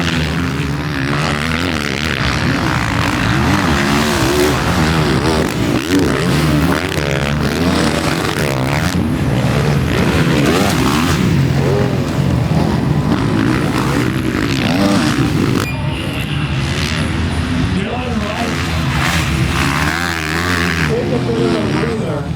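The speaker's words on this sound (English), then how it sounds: "The factory gas bike means business" A factory gas dirt bike races at a pro motocross national, its engine screaming loud and continuous with rising and falling revs among other bikes, while a voice talks over it.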